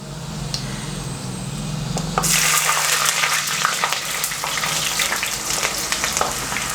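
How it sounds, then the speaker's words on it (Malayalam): Garlic, ginger and green chili sizzle in a pan for a Kerala beef curry. A low hum fades as a loud frying hiss swells after a couple of seconds, with scattered stirring scrapes and pops continuing close by. "ഒന്ന് ഇളക്കി കൊടുക്കാവേ."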